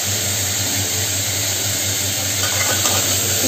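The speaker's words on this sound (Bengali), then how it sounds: "তেলের সাথে মেরে নিই, টমেটো দিয়ে দিলাম।" Tomatoes and potatoes sizzle loudly in hot oil while being stirred for a Bengali potato curry, a dense, steady frying hiss that continues throughout without any talking.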